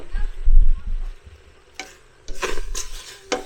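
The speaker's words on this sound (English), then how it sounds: "stir this up some more with my masher" Strawberry jam with added pectin is stirred with a masher in a pot at an outdoor kitchen: a low, bubbling, sizzling cook sound with several short, sharp scraping bursts of the masher against the pot.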